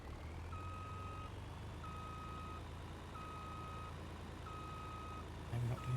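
A farm truck reverses with a steady, evenly spaced series of loud reversing beeps over a constant engine rumble, the beeps repeating at a regular rhythm for several seconds with a brief clunk near the end.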